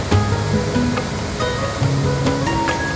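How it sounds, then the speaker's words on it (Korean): Steady rushing roar of Galovački waterfall at Plitvice Lakes, Croatia, continuous and fairly loud throughout, with no voices. "갈로바키 폭포를"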